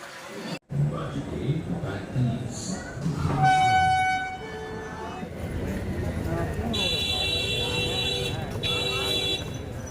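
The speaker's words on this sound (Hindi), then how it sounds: "तो ट्रेन आ गई है और हम लोग ट्रेन में बैठ भी गए हैं" A train bound for Delhi arrives and runs, with a steady rumble, clattering, and bright horn- or buzzer-like tones, heard up close beneath people talking.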